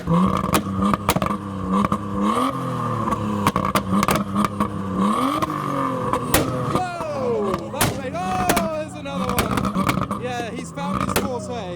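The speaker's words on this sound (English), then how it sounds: "The R33 is still popping." A Nissan Skyline R33 at an outdoor car meet burbles and revs, its exhaust throwing repeated sharp pops and flutters over a rumbling idle, with other engines and voices mixed in nearby.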